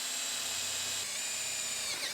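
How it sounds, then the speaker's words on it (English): A steady high-pitched power drill whines continuously at close range, drilling a hole in a mini truck, with the motor pitch shifting slightly near the end. "So we need to drill a hole right on our scratch mark"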